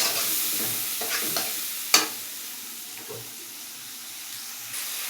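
Leafy greens (shak) frying in a pan, a steady low sizzle broken by a few scraping stirs and one sharp clatter near the middle, fairly quiet and with no talking.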